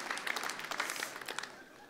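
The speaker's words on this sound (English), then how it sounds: "Round of applause for that guy" Conference audience applause, a faint patter of clapping from a room full of people, fairly distant and tapering off over two seconds.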